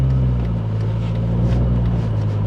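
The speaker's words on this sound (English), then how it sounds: "Oh, I love the sound of this exhaust." A Dodge Neon SRT-4 exhaust holds a steady, deep, burbling drone close up, with no sharp rise in pitch and no talking.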